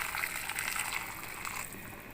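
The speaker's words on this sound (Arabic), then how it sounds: "نبدا بقى ننزل عليها بالميه المغليه" Boiling water is poured steadily into a tomato mixture in a pot while cooking red Saudi kabsa, a continuous gushing, splashing pour that stays fairly constant throughout, with no talk.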